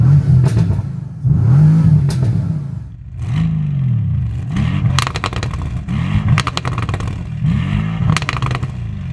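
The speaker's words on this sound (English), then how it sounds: "Pretty beastly sounding twin turbo V8 with the sport exhaust on the GTS." A Bentley Continental GTS twin-turbo V8 with sport exhaust revs repeatedly up and down, loud and close, each blip rising then falling with crackling pops on the overrun between revs.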